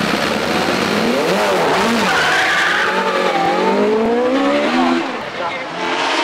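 A 4-litre Ghoul Judd hillclimb race car at full throttle on the Shelsley Walsh course, engine screaming loudly and steadily with pitch rising and falling through gear changes, briefly easing near the end.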